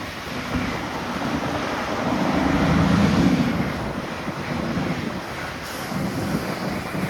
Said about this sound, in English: Sorry about the wind, folks.